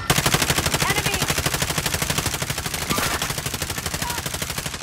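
Sustained rapid automatic gunfire in Call of Duty Modern Warfare Warzone, a steady stream of loud, evenly spaced shots lasting throughout, with faint talk underneath.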